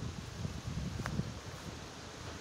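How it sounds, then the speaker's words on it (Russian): Wind gusting through tree leaves gives a soft, steady rustle with a low rumble of wind against the microphone, faint and continuous, with no voices. "Порыв ветра сейчас будет."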